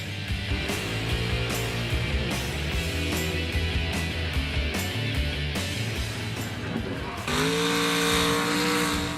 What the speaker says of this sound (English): Mudbogging, drivers compete in a few different classes